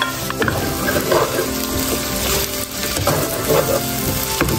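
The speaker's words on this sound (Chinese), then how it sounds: "把猪肝里面的水分炒开" Pork liver stir-fries in plenty of hot oil with scallion, ginger, garlic and chilli, making a loud, close, continuous sizzle with repeated scraping and clanking of the spatula against the wok.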